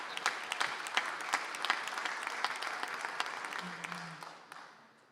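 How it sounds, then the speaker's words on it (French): An audience at a conference gives several seconds of steady, dense clapping that fades away at the end, with faint voices underneath. "applaudissements."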